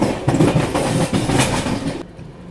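New Delhi Howrah Duronto express rolling over the rails in a 3AC coach, loud rhythmic clickety-clack of wheels over joints, then an abrupt drop to a quieter rumble near the end.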